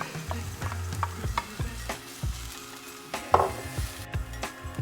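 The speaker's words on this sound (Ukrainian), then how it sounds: "тепер морква теж туди і теж обсмажуємо" Carrots frying in a pan for meatballs, a light sizzle broken by repeated scraping and stirring knocks from a utensil against the pan, close and fairly busy.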